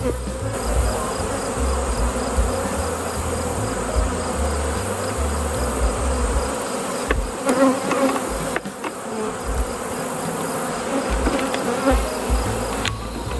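Honeybees swarming around an open hive during a September beehive inspection, a dense continuous buzzing hum close to the microphone, with occasional faint handling knocks.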